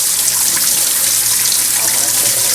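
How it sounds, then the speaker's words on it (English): Blueberries rinsed under a running kitchen tap, a loud, steady rush of water splashing into the sink, continuous and close throughout with no talk. "We'll go ahead and rinse these off."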